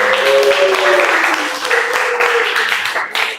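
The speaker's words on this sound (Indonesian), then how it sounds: "Tepuk tangan untuk kita semuanya untuk hari ini." Participants at the close of a coding and artificial intelligence training session applaud in a loud, steady wash that fades slightly toward the end, with a faint tone sounding underneath.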